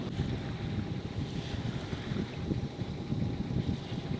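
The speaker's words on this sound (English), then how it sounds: "It's nice to feel the wind on my cheeks." Wind blowing across a sailboat at sea, a steady rushing roar with buffeting microphone gusts and a low, continuous rumble of water, with no voices.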